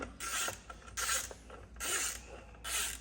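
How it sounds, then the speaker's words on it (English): Repeated rasping, scraping bursts as screws are worked back into a Stihl MS440 chainsaw, four distinct strokes about half a second to a second long with brief pauses, close and fairly loud, no talk. "Start working our screws back in."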